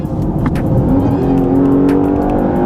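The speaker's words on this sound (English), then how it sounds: "Nice engine note" A 2013 luxury SUV engine revs hard during a 0-60 mph acceleration run at high altitude, a loud, close, rising drone that climbs steadily in pitch with no talking.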